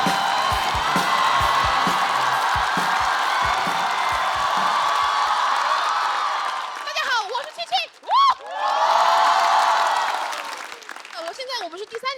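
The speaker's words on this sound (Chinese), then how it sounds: "掌声欢迎七七" A stand-up comedy studio audience applauds and cheers to welcome a performer with loud, dense, sustained clapping and whoops. It fades after about seven seconds as a voice starts talking.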